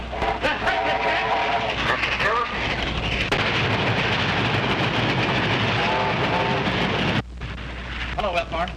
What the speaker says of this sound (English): Train about to come by.